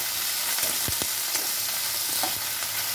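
Light frying and stirring of radish in a pan over a gas flame, a steady close sizzle broken by a few soft scraping stirs, with no voices.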